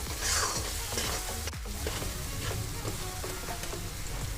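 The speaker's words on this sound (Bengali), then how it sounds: "এখানে টমেটো আর কিছুক্ষণ নাড়াচাড়া করেই আমি এখানে ডালটা দিয়ে দেবো" Tomato masala for egg tarka stirred and frying in a pan, with a steady close sizzle under repeated scraping strokes of a spoon against the pan, no voices.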